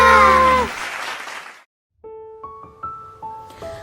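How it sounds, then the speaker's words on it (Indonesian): Clapping at an online children's Sunday school worship service, a loud burst of applause that fades over about a second and a half, then stops, followed by a few scattered tonal sounds. "Beri tepuk tangan buat Tuhan."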